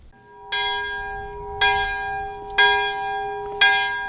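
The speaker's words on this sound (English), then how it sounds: "Church bells toll for the 72 victims" Church bells toll four times at a slow, steady pace, each ringing strike fading before the next, with no voices.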